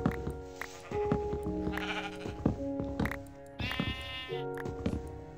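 Sheep in the video game Minecraft bleat repeatedly in short, clear calls, several overlapping bursts close up against the game's background sound.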